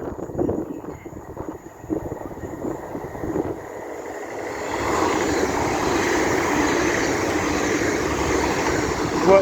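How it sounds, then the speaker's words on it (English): A Trans-Pennine Express Class 802 train from Newcastle to Liverpool Lime Street rushes past at Church Fenton on the East Coast Main Line, a rising wind-buffeted roar that swells and holds loud and near. "should be a Trans-Pennine Express Class 802 running from Newcastle, to Liverpool Lime Street"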